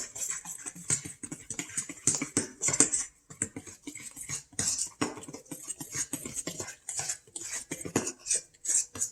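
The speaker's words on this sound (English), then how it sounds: "now let's mix this together. I recommend using a fork." A fork beats pancake batter in a bowl, giving a quick, steady run of light clicking and tapping against the sides. It stays close and continuous throughout with no speech.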